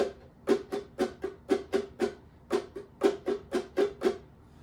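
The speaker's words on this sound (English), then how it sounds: "keep your fingers on the strings and keep strumming with your finger" Muted ukulele strums, short percussive chucks in a steady rhythmic pattern with brief pauses, close and fairly quiet with no voices.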